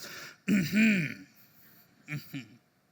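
A voice imitates a deep, gravelly throat clearing, a drawn-out rasping "ahem," followed by two shorter clipped grunts.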